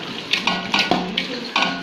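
Masala being stirred with lemon juice in a pot for a Malabari chicken dum biryani, giving a handful of light scrapes and soft clinks of a spoon against metal at an uneven pace, close and moderately quiet.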